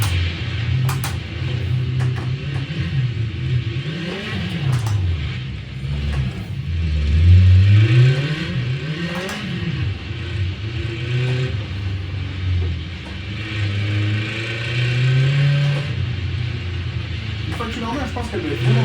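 Car engine revving and accelerating on a snow circuit, with rising and falling pitch sweeps over a steady rumble, fairly loud and close, with a driver's voice briefly over it.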